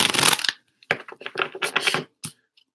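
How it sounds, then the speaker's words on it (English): Tarot cards being shuffled by hand in close, crisp bursts of riffling and rustling, pausing briefly between bursts, with no talking. "I'm starting to shuffle all over again"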